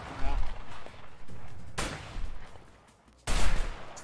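Sniper rifle fire in the video game A Way Out: two sharp, loud shots spaced about a second and a half apart, set against game noise and voices talking.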